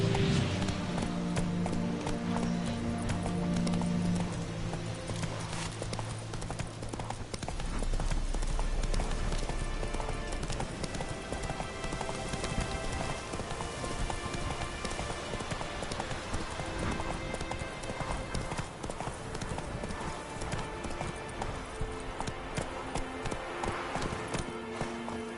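Roach the horse trots in The Witcher 3, hooves clip-clopping in a steady, close rhythm over a game music bed, with a low rumble midway.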